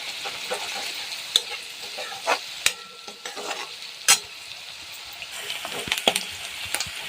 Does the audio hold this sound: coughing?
no